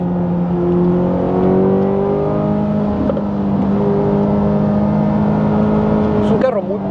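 A 2025 Chevrolet Corvette ZR1 lapping the Circuit of the Americas race track drones with a steady, loud engine note that shifts pitch slightly, heard from inside the car while a person talks over it.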